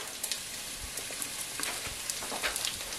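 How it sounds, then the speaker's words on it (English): Onions sweat and sauté in a hot pan for a vegetable lasagna bake, a steady close sizzle and crackle with scattered sharp pops, even and continuous throughout, with no talking. "I'm gonna throw the onions in here so I can saute the spinach, but the onions have to sweat a little bit first"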